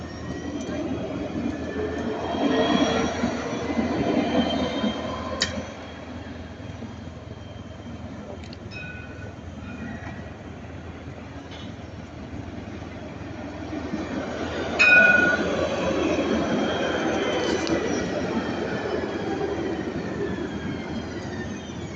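A line 3 tram pulling in to the platform at Magnan, a long rumbling approach with steady rolling noise, a few squeals and clanks, and a louder swell near the end as it comes to a stop nearby.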